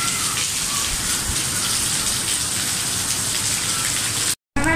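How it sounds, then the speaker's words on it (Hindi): Heavy monsoon-style downpour in Mahmudabad, a dense, loud, continuous hiss of rain pounding surfaces, cutting out briefly near the end. "हाँ ये देख कितनी मूसलाधार बारिश हो रही है यहाँ महमूदाबाद में भी हो रही है।"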